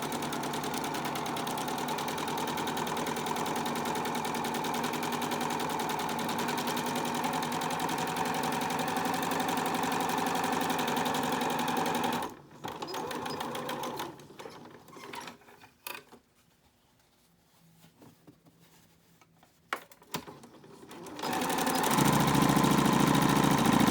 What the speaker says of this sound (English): You're then going to stitch the top and the bottom of your mask.